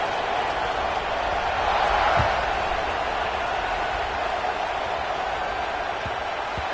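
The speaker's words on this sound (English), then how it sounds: "this crowd is buzzing after that last score" Stadium crowd buzzing in the College Football 26 video game during a North Carolina at Penn State matchup: a steady, dense roar of many voices that swells slightly midway and holds constant throughout.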